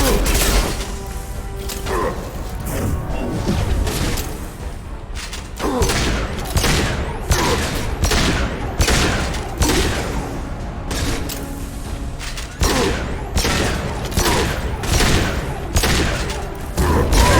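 Rapid bursts of gunfire from the video game Mass Effect 2 on Insanity difficulty, loud, dense and repeated, with short pauses between volleys and heavy impacts, with faint voices now and then underneath.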